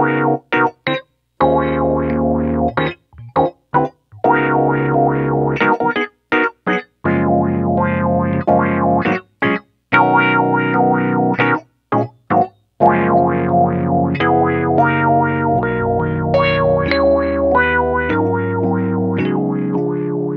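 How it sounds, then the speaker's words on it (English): A Rhodes electric piano patch with a wah effect, from a Yamaha Montage sound pack, plays chords and melodic phrases with sweeping, vowel-like filtered tones, loud and alone, broken by short gaps between phrases. "Next, we got the wah wah wah sound, which is once again self-explanatory."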